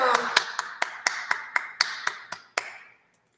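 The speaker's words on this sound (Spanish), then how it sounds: "Un aplauso." About a dozen sharp claps in an even rhythm at a university event, close and crisp, ending abruptly, with a single faint tap after.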